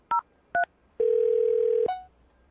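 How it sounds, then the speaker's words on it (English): Telephone keypad dialing: two short dual-tone beeps, then a long steady tone lasting nearly a second that ends in a brief falling chirp, loud and clear with no voices. "I'm going to dial the phone number right now"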